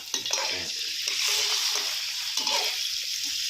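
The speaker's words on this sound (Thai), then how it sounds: "ขั้นตอนแรกก็นำกระเทียมลงไปผัดกับน้ำมันนะครับเพื่อน ๆอ่าตามด้วยใส่กุ้งลงไปเลยนะครับ" Garlic and shrimp stir-frying in hot oil in a pan, a steady loud sizzle with stirring scrapes and small splatters, close up, with no talking.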